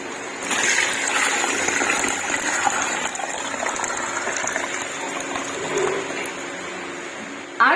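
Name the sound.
pouring water into pot of beef nihari masala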